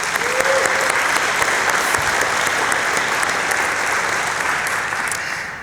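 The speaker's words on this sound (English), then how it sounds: "Could we please give them a round of applause?" An audience at a Google for South Africa 2019 event claps steadily throughout, a dense, even wash of applause from a sizeable crowd, with no pause.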